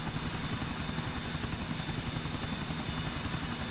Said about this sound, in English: I've never flown a helicopter inside LCPDFR before